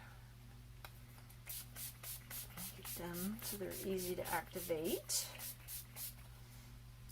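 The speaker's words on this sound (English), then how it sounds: "Just a little spray bottle with some water, one I've repurposed." A series of quick, short hissing spritzes from a spray bottle misting water onto watercolor paints, evenly repeated, with a person talking over them.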